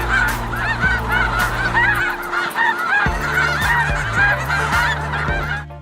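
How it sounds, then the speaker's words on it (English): A large flock of geese calling in the fields near Delta in western Utah, a dense continuous chorus of honks from many birds. "I love seeing the geese. I love hearing that awesome call."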